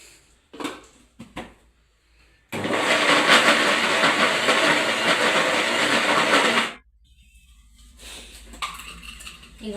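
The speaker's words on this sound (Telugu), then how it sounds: "ఇప్పుడు బెల్లం కూడా మిక్సీ పెట్టేస్తానండి." A mixer grinder grinding jaggery, preceded by a few knocks and clatters, then a loud steady whirring roar for about four seconds that cuts off abruptly, followed by quieter handling sounds.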